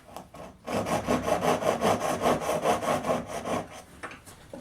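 A hand saw cuts wood for box joints in steady, even back-and-forth strokes, close and fairly loud, about a dozen rhythmic passes before slowing to a stop.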